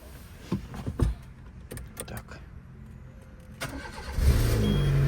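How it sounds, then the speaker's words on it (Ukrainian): A 2003 Peugeot 206 has its engine started after a few clicks and clunks of key and ignition handling; the motor catches near the end and settles into a steady idle hum. "все, машинка завелась, вуаля"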